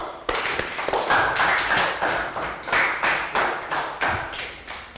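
Year 3 pupils give a round of applause in a classroom, hands striking in a loud, steady rhythm of distinct claps over about five seconds, close by with no voices.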